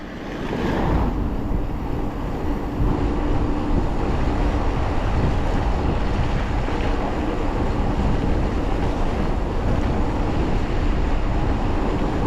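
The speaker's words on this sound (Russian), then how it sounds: "Да, ветер, ветер." Strong wind buffets the microphone on a mountain road near Ai-Petri in Crimea, a loud, steady roar of low rumbling gusts that lasts throughout without pause.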